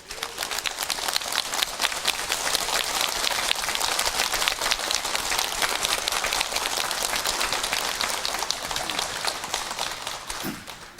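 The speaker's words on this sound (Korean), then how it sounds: "큰 박수로 환영해 주시기 바랍니다" A large audience at a lecture event applauds to welcome a doctor onto the stage, with a dense, steady roar of clapping that sounds almost like heavy rain and lasts about ten seconds before tapering off.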